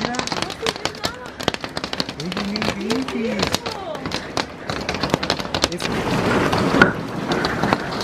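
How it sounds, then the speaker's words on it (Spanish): Heavy rain pours down with sharp irregular cracks of hail striking hard surfaces, while voices talk and exclaim over it. "empezó a llover bien fuerte aquí en donde nosotros vivimos, que incluso empezó a granizar bastante"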